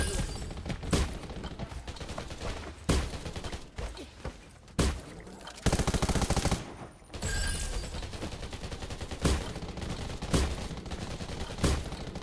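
Repeated bursts of gunfire in the survival shooter Undawn, sharp shots and rapid volleys recurring throughout, mixed with busy game effects and no speech.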